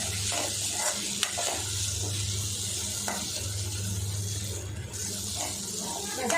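Masala for baby corn dosa sautéing in a pan, a soft steady sizzle with occasional scraping stirs and light clicks of the spatula, close by and moderately quiet.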